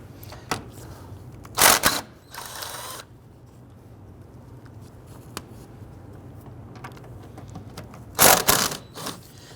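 A ratchet or impact tool spins loose the three 12mm strut tower nuts on a 2008-2013 Infiniti G37, heard as a few short, loud, separate bursts with quiet gaps between them.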